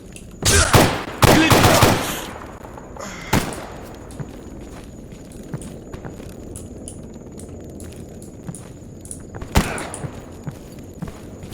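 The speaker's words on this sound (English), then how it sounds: "You just shot the free stalker that I was friendly with." Gunshots in the video game Escape From Pripyat: a loud burst of rapid automatic fire at the start, then a quieter stretch with scattered faint pops, and another sharp shot near the end.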